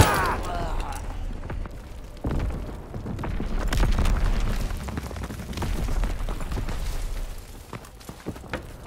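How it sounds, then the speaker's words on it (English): Mortar shells exploding across a World War II battlefield in Call of Duty: WWII, a steady series of deep booms and rumbling blasts at middle distance over constant battle noise. "Enemy mortar fire incoming!"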